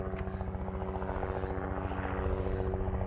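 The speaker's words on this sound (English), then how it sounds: "helicopter's interrupting my flow there" A helicopter drones steadily nearby, its rotor thudding in a fast, even pulse over a low engine hum, loud and constant throughout.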